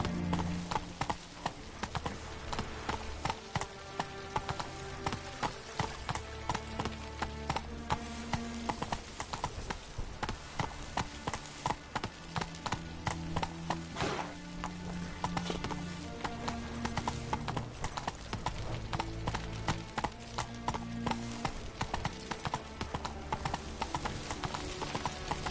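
Horse hooves gallop in The Witcher on PS4, a fast continuous clip-clop rhythm over game music with occasional snorts, close and steady throughout.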